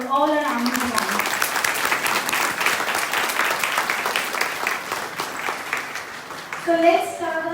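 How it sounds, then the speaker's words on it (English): Audience at an army jawan tribute event breaks into sustained, dense applause lasting several seconds, steady and fairly loud, with a brief amplified voice at the start and again near the end. "Ladies and gentlemen, a big round of applause for all our army jawans."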